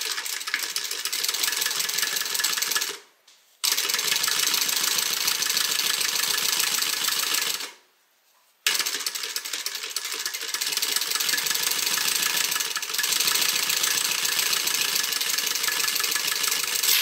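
Sewing machine stitching a beverage bag, running in long steady bursts of rapid mechanical whirring, pausing briefly twice before starting again.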